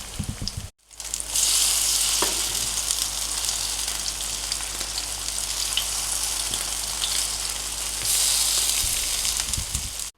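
Zucchini fritters fry in hot oil with a loud, steady, close sizzle that holds for several seconds after a brief sharp break near the start; no one speaks.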